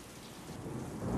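Cartoon storm with rain pouring steadily and thunder rumbling low, swelling louder toward the end of the short stretch, with no voices.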